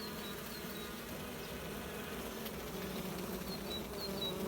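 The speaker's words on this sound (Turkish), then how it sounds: "Üzerinde titrer gibi bir şeyler yapıyorlar arılar" Steady, dense buzzing of many honeybees close by on a hive frame, a continuous droning hum with no talking.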